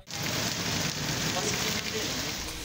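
Monsoon rain falls steadily and heavily during flooding in Khuzdar district, Balochistan, as a dense, continuous hiss of drops on surfaces, loud and close throughout.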